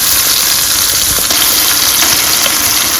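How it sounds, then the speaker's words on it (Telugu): Ginger onion paste fries in a pan, a steady, loud sizzle that hisses continuously throughout with no talk. "ఇప్పుడు అల్లం ఉల్లిపాయ పేస్ట్ వేసేసుకుందాం. ఇది పచ్చి వాసన పోయే వరకు వేయించుకుందాము."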